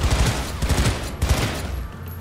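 Sustained automatic gunfire from a Cyberpunk 2077 firefight, loud bursts of rapid shots rolling continuously with brief dips in intensity, no talk over it.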